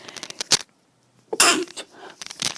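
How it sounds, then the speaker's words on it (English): A single sharp sneeze bursts out loudly and close by, with brief speech-like sounds before and after it. "I am gonna sneeze."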